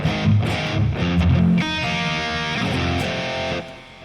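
Heavily distorted electric guitar through a 6505-style amp rig with reverb and delay, chunky riffing that gives way to a sustained ringing chord, its echoes fading at the end.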